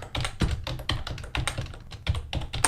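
Code is typed on a computer keyboard in quick, uneven bursts of clicking keystrokes with short pauses, close and clear, no talking.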